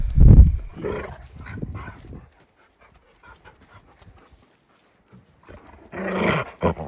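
Dogs scuffle playfully nearby on the Everest Base Camp trek in Nepal, with panting, rough growly snorts and thumps in bursts, a quiet lull, then another flurry of play.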